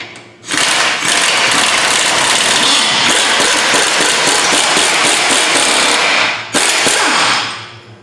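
An impact gun or power tool whirs steadily for about six seconds, then briefly again, while removing the bolts from a Jeep WJ's front long arms during an Iron Rock Off Road long-arm install; loud, close mechanical buzz with no talking.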